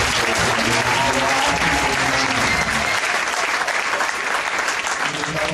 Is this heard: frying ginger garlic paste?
no